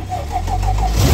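A Mercedes W220 S500 V8 with a reworked cylinder head runs steadily at close range, giving a loud, even engine drone with no talk over it.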